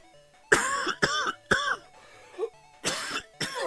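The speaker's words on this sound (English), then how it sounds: "Got a coughing fit coming on here." A person coughs in a fit, six harsh bursts spread over a few seconds with short gaps between them, close and fairly loud in an otherwise quiet room.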